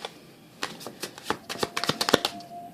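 Tarot cards are shuffled for clarifier cards: a quick run of crisp riffling taps and snaps, gaining pace and density toward the end, close and clear with no voices.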